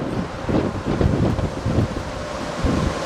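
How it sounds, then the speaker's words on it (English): Strong wind roaring and buffeting the microphone in gusts on a cruise ship's deck in 4 to 6 metre seas off New Zealand, with a broad rushing wash of sea beneath, loud and continuous. "It's pretty windy."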